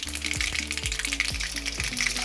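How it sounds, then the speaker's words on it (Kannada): Mustard seeds splutter in hot oil while gojjavalakki is being prepared, a steady fizzing sizzle broken by quick irregular pops and crackles, heard close and alone. "ಸಾಸಿವೆ ಚೆನ್ನಾಗಿ ಸಿಡಿಬೇಕು"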